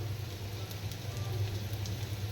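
Small bitter gourd frying in a pan with onions browned red, a continuous crackling sizzle with a low rumble underneath, steady and close, no voices.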